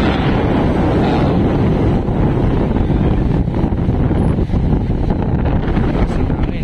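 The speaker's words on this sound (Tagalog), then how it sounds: "napakalakas ng hangin" Strong wind roars at Baler Beach in the Philippines, where large waves are breaking. A loud, continuous rushing blast buffets the microphone and fills the whole stretch.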